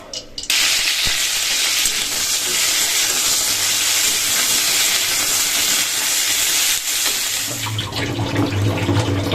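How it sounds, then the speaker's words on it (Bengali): Cauliflower fries in hot oil in a wok with a loud, continuous crackling sizzle that holds for several seconds, then shifts to a lower, bubblier tone near the end. "ফুলকপি ভাজা কমপ্লিট হয়ে গেছে আর কড়াইয়ে তেল দিয়ে দিয়েছি"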